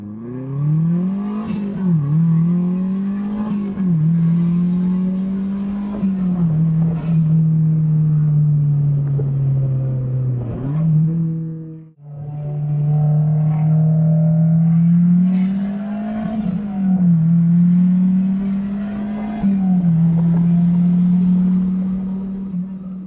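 A 2004 Mazdaspeed MX-5 turbocharged engine revving repeatedly, rising and falling pulls with a brief lift-off midway, loud and close with no talking over it.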